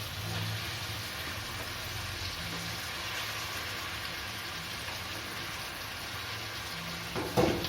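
Chopped Malabar spinach tipped into hot spiced oil in a pan, giving a steady broadband sizzle and crackle throughout, with a brief louder clatter near the end.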